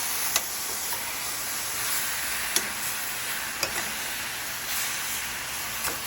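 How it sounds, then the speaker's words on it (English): Seasoned chicken sautéing in a pan on high heat, a steady close sizzle and hiss with a few sharp ticks of stirring scattered through. "And we're just gonna saute it up."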